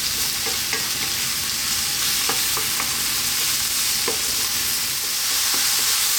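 Mushrooms stir-fried in a hot pan for fried rice give a steady, loud sizzle with scattered scraping clicks as they are tossed around, without any talk.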